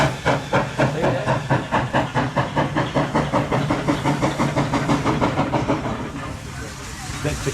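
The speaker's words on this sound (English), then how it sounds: "That's the classic steam train set." A steam locomotive chuffs rhythmically with a steady hissing beat, repeated exhaust puffs at an even pace, with voices talking over it.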